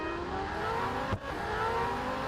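Race car engine in the racing game Real Racing 3, a loud, steady high-revving drone held throughout with a brief dip mid-way, like a gear change, sounding more like a Formula 1 car than a road car.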